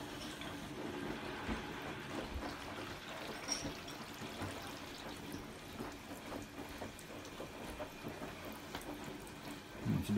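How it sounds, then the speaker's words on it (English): Water running from a tap into the drum of a Hotpoint Supermatic De Luxe 9414 washing machine, a steady low trickling and splashing flow throughout. "the water start to come out of these holes around here."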